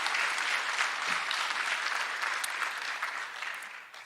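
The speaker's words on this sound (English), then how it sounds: "Let's give a round of applause to our valued faculty." Sustained audience applause for faculty at an endowment awards assembly, dense even clapping that slowly tapers toward the end.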